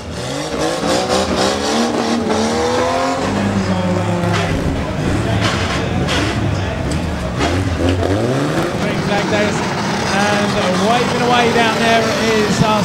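Pre-1975 national banger cars racing at Mildenhall raceway, engines revving loudly and continuously with rising and falling pitch, tyres squealing, and a commentator talking over the roar.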